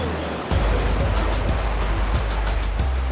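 A 4x4 SUV crossing a river, a sudden loud rush of splashing water that begins half a second in and continues as a dense, churning wash with low engine rumble beneath.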